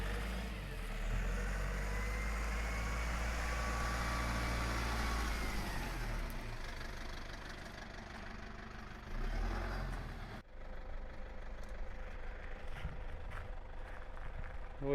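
A Toyota car grinds slowly over rough ground near an abandoned uranium mine, its low engine rumbling steadily with bumps and rattles before the sound drops away near the end. A voice talks over part of it.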